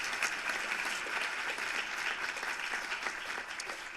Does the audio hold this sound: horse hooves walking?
no